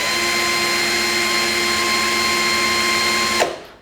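An INGCO cordless drill running unloaded at speed setting 2 gives a steady, loud, high motor whine with a constant pitch, then cuts off and spins down near the end.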